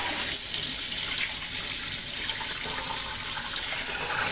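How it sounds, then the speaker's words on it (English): Hot tap water runs steadily over rice being rinsed in a pot, a loud, continuous splashing gush from close by with no talking. "just run the hot water and let the stuff just kind of go out over the top"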